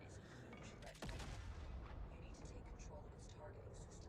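A heavy cannon booms in a video game, one sharp blast about a second in followed by a rumbling tail, with faint battle effects and voices in the background.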